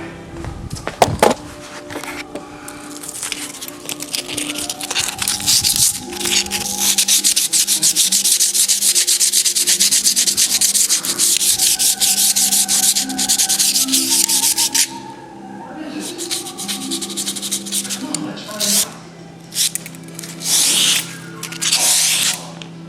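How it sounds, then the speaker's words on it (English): A small piece of sandpaper rubs along a door edge in fast, continuous, close-up scratching strokes, with a brief break partway through and choppier, shorter strokes toward the end. "Get your little piece of sandpaper."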